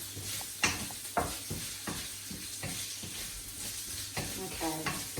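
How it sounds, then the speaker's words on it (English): Lotus root stir fry being stirred in a pan, with a steady sizzle of frying and a series of scraping, clattering strokes at an irregular rhythm, close by. "So I'm just stirring that around."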